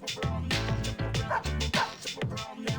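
A dog barks and yips repeatedly in Persona 3 FES, loud and close, in a quick, uneven run of barks over background game music.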